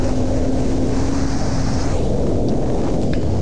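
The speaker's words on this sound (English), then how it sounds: "I'm riding my 2005 Yamaha R6" A 2005 Yamaha R6 motorcycle is ridden at speed, with loud, constant wind roar over a steady engine hum.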